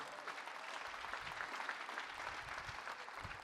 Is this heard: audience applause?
yes